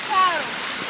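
Water runs across a mountain road on a hiking loop near Col Gallina in the Cortina Dolomites, a soft continuous flowing rush heard close, with a brief whistle-like tone near the start.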